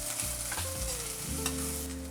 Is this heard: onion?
yes